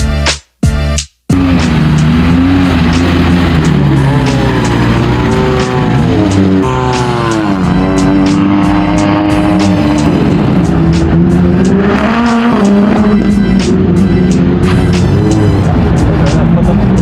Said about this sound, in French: Alors on vient de faire la première série d'essais libres là à Mondello Park